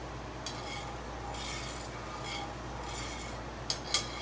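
An egg cooking in a non-stick skillet gives off a steady, low sizzle that runs the whole length, with light scraping or stirring strokes partway through and two sharp utensil clicks near the end.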